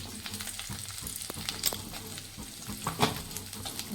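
Cumin seeds and black pepper sizzle and crackle in a pan as a spice base for an eggplant kuzhambu, with scraping stir strokes over a steady close fry and no talking.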